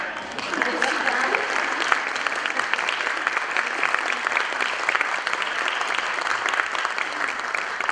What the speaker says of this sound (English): I had a golf clap up here.